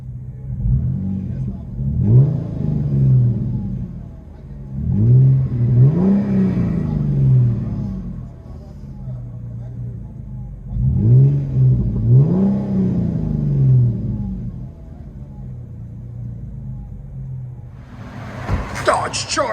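Interior view of a 2008 Dodge Charger 2.7L V6 fitted with a Flowmaster Flow FX exhaust, with three deep rumbling rev cycles rising and falling at steady intervals, a muffled low drone between them, and a brief sharper noise at the end.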